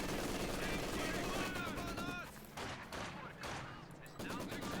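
Gunfire in the real-time strategy game Company of Heroes 2, rapid bursts of machine-gun and rifle shots in a dense battle mix, loud and continuous with brief lulls.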